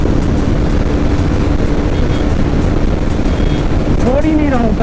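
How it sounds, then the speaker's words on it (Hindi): A motorcycle running at full throttle at high speed, heard as a loud, steady roar buried in heavy wind rush against the microphone, with a brief rising whine near the end. "मैंने फुल थ्रॉटल खींच रखा भाई"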